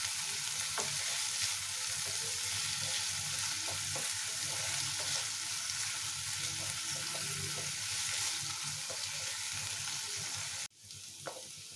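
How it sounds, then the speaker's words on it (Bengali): Potato pieces and onions fry in oil in a pan, giving a continuous dense sizzle with occasional stirring scrapes throughout, close and steady, before a brief drop near the end. "আলু ভাজা হতে হতে পেঁয়াজটাও ফ্রাই হয়ে যাবে।"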